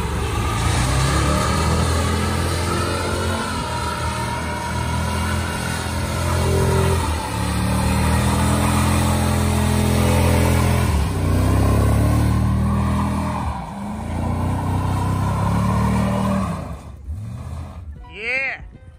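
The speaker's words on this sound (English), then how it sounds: "my stepfather's finally taking out his truck for the spring." A black 4x4 pickup truck engine idles with a deep, steady rumble and revs a few times, running loud and close throughout.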